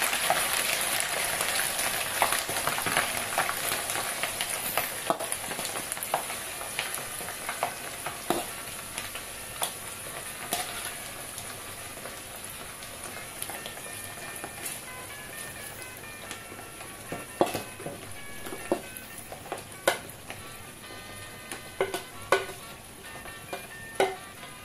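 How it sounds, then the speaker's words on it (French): Small ndakala fish fry in hot oil, a dense crackling sizzle that starts loud and settles into scattered pops and sputters over about twenty-five seconds, close up with no voices. "L'huile chauffe. Voilà. Je mets le ndakala dans l'huile."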